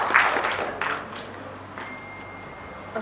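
Audience applause at a Punjabi condolence reference gathering, a brief burst of scattered clapping at the start that quickly thins and fades, leaving faint room noise.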